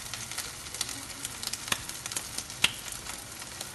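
Raw minced-meat kebabs fry in oil over low heat, giving a soft, steady sizzle with scattered pops and crackles, close by and alone.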